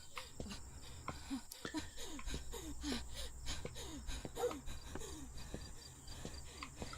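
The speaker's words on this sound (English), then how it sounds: "I'm guessing that heavy breathing is going to be a mechanic of some kind." Heavy, rhythmic breathing from Remothered: Tormented Fathers, a steady series of short wheezing gasps repeating about twice a second under a faint ambient hum, fairly quiet and close.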